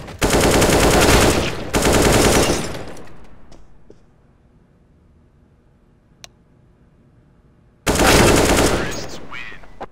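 Loud bursts of rapid automatic gunfire in a shooter video game come in two close bursts, then near-silence with a faint tick, then another loud burst at the end.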